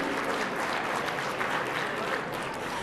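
Dinner-gala crowd of Department of State staff clapping and cheering, a dense, even wash of applause held steady for a few seconds, with no single voice standing out.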